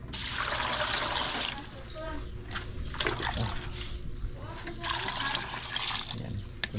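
Water poured into a pot of blue crabs, a steady splashing stream heard in bursts with brief pauses, close and fairly loud.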